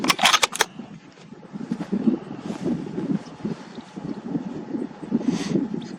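Breezy wind gusts buffet the microphone at an outdoor long range rifle shooting range, a low rumbling roar that swells and eases throughout, with a few sharp clicks at the very start.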